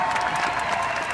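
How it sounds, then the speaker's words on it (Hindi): Strong audience applause at a Kapil Sharma comedy show fills the room with a dense, steady wash of clapping, with faint crowd noise mixed in and no clear voices above it. "जोरदार तालियां इनके लिए।"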